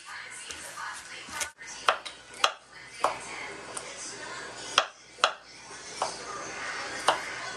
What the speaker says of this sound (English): So mince up the garlic until it's really tiny